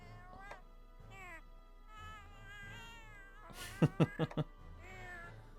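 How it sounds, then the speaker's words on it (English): Synthetic cat meows from Monster Hunter 4 Ultimate play in a quick series of four short, high calls, preceded by softer, drawn-out mewing sounds, with no one talking. "People meowing."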